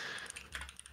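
Quick, light keystrokes clatter on a computer keyboard in an uneven run of close taps, alone and faint with no voices.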